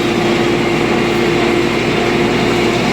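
An MTZ 892 tractor engine runs steadily with a rotary mower attached during hay mowing, a loud, continuous drone with a steady tonal hum and no pauses or voices.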